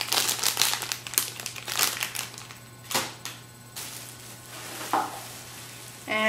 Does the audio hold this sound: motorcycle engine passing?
no